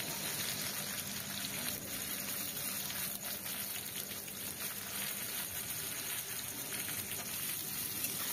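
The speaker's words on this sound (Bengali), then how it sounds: "আমি দেখো পেঁয়াজগুলো ভেজে প্রথমে তুলে নেব" Onions fry in a very hot wok, giving a steady, close, dense sizzle and hiss that runs unbroken and alone throughout.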